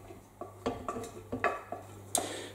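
Chopped onions are tipped into a cooking pot for a curry sauce, giving a handful of soft clattering knocks and scrapes of utensil on pot, close and moderately quiet over a low steady hum.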